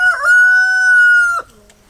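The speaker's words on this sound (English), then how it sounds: "Just ignore the rooster." A single rooster crows loud and close on an Australian property where a shade house is being built. The crow is one long, sustained call lasting over a second, then breaks off sharply into quieter trailing sounds.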